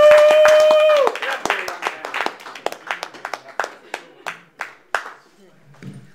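Audience at a New York City comedy club claps for comedian Tucker Portis as he takes the stage, a loud burst of applause over music that thins into scattered, fading individual claps.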